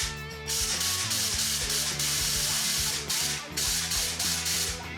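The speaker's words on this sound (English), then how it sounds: "So then you can blow those holes right out." Compressed air from a hose blasts through the oil holes of a vintage engine case in loud, close hissing bursts, with two short pauses where the flow cuts off before it resumes.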